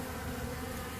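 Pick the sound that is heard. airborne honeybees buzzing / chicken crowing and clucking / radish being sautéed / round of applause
airborne honeybees buzzing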